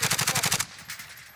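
A burst of rapid automatic fire from a Kilo 141 rifle in Warzone: about nine evenly spaced, punchy shots in under a second, then a fading echoing tail.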